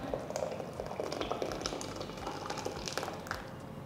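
Sago pearls boil in a pot of water on a medium flame, a steady close bubbling and popping of liquid with no talk.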